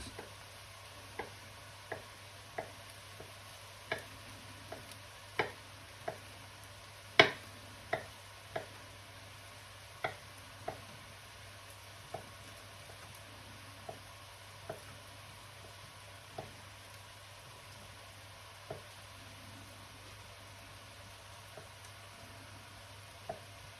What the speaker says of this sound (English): Put that to one side for the moment while the bacon is still cooking.